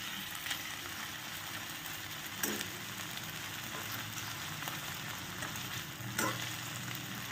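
Paneer pieces frying in a pan after being flipped, a quiet, even sizzle throughout with two brief louder crackling bursts, no voices.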